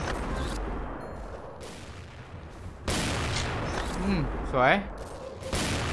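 Shots from a Cold Roar M82A1 sniper rifle in the shooting game XSHOT, booming reports among game effects, with someone speaking Thai over the action.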